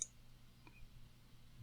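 A single faint computer mouse click in a quiet room, with a soft low hum underneath.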